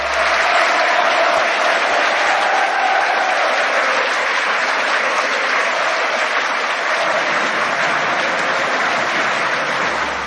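Football crowd at St James' Park applauding in tribute, a dense, steady roar of clapping that holds loud and unbroken for about ten seconds, with the massed sound of the stands carried by the wide wash of hands.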